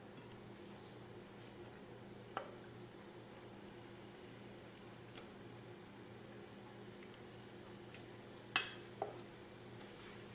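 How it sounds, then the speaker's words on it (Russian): Faint, steady sizzling of pancake batter frying in a pan over medium heat, with a couple of sharp utensil clinks near the end. "Жарить будем на среднем огне."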